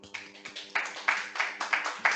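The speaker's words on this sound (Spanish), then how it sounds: "aplauso" A small group claps after a talk at a patient meeting, sparse and fairly quiet, with about a dozen distinct hand claps in an uneven rhythm that sounds like only a few people applauding.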